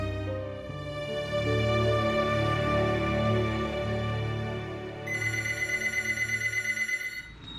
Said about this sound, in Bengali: কিন্তু একদিন হঠাৎ আমাদের কাছে একটি ফোন কল এলো।